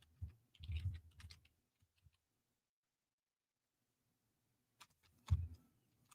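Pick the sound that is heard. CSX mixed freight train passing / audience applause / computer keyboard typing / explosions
computer keyboard typing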